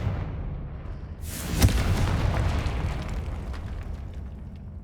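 Confringo explosive spell in Hogwarts Legacy, a sharp blast after a quiet lead-in, then a loud rumbling explosion tail that decays slowly, with no talk.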